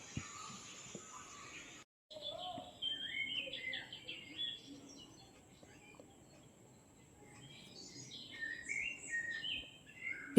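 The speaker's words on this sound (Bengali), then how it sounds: "নানা রকম পশু পাখির বিশেষ আওয়াজ পাওয়া যাচ্ছে নানা রকম পাখির আওয়াজ" Several birds chirp and trill in bursts against a faint insect hum in the Sundarbans forest at Jharkhali, with an open, outdoor quiet between calls.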